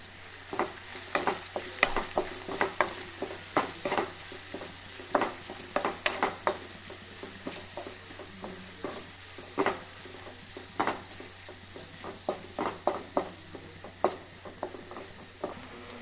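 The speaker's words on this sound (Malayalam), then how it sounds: "മൂത്ത് വരുമ്പോൾ നമുക്ക് സവാള ഇട്ട് വഴറ്റാം ആവശ്യത്തിന് ഉപ്പിട്ട് നമുക്ക് ഇളക്കി മൂപ്പിക്കാം" Sliced onions sautéing with salt in a pan for an egg curry, stirred with a spoon in a steady rhythm of scraping strokes over a soft continuous sizzle, close and moderately quiet with no talk.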